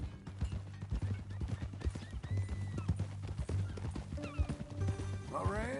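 Horse hooves clip-clop steadily in Red Dead Redemption 2, joined near the end by a whinny, while a low music bed and game voices carry on underneath.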